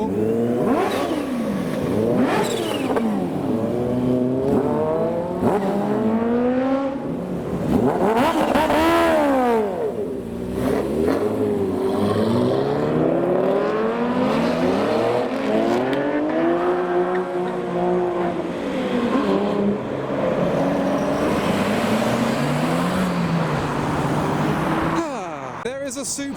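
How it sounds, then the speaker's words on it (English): A Toyota Supra at a JDM car meet revs hard through a burnout, its engine rising and falling in long sweeping pulls. People talk over the loud, sustained roar. "There's a Supra doing a burnout."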